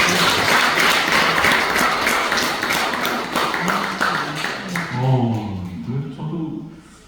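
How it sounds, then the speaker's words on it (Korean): A church congregation applauds together after an award announcement during a Korean church service, a dense wash of clapping that slowly thins, with a voice starting to speak near the end. "박수 한번 쳐주세요."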